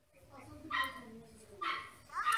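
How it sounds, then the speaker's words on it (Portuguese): A dog barks and yips in short bursts in the background of a noisy home, with people talking over it. "Tem gente falando, tem cachorro latindo, tem muito barulho."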